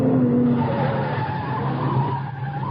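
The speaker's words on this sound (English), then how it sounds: "Car coming down from the house. Yeah, at a good clip, too." A souped-up car drives fast down from a house, its engine roaring steadily and loud throughout with a brief tire squeal near the start.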